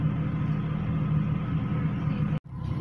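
A car engine idles with a steady low rumble, close by, then cuts out abruptly for a moment before resuming, after a P0191 fault code repair.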